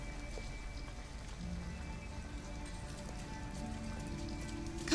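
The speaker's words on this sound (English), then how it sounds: "Don't make her walk in the rain." Steady rain pours in the video game Detroit: Become Human, an even wash of falling drops on surfaces with no break, heard alone without any talk.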